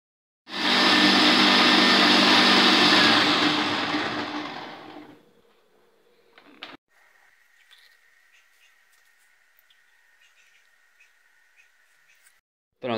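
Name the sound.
blender mixing apple, carrot, mint, ice and coconut water juice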